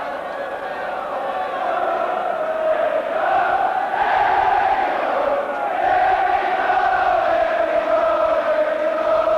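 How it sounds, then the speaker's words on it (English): A large football crowd at Oxford United's League Cup quarter-final against Everton roars and chants in sustained support for Oxford, a broad, steady wall of voices with rising swells. "Fantastic backing for Oxford from the crowd"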